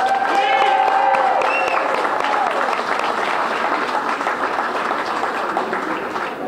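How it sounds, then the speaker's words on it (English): An audience at an election results event applauds a speaker, dense sustained clapping that fades slightly toward the end, with a voice speaking over the start. "One more round of applause for the man for being here."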